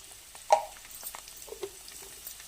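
Amla (Indian gooseberries) with spices and a pinch of turmeric fry in hot oil in a pan, giving a soft, close sizzle with small pops and stirring clicks and no talking.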